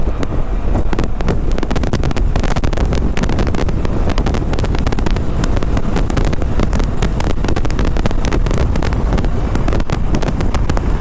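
A Yamaha Xmax 300 scooter cruises at about 105 km/h beside trucks, giving a loud, constant blast of wind buffeting and road roar with engine drone, steady throughout and with no talk.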